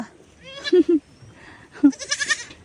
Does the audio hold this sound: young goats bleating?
yes